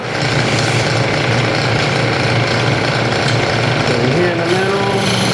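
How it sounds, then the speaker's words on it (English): Wood being turned on a lathe for a giant chess set pawn, a small gouge rolling over the edges of a bead, makes a loud, steady, continuous grinding roar throughout. "I'm going to roll over the edges of that bead with my small gouge."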